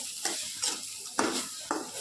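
Kebab frying in a kadai with a low sizzle, broken by four sharp scrapes of a spatula stirring against the pan at a fairly even pace.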